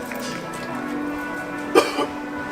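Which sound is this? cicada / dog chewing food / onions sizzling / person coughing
person coughing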